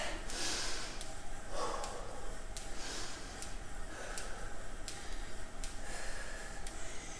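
Heavy breathing of a person recovering after a cardio HIIT workout, a steady run of loud, close snorting breaths and gasps lasting throughout with no talking.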